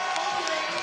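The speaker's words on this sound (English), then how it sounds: "the dunk machine's got the crowd roaring too" Basketball crowd at a FIBA 3x3 World Tour finals in Marseille roaring and cheering after a dunk, a brief loud sustained mass of shouts and whoops.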